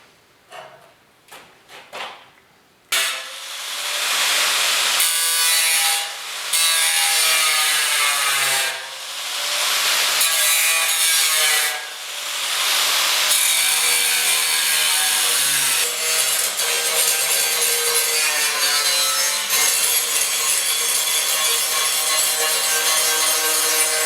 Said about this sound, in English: We got to cut a big half circle in the patch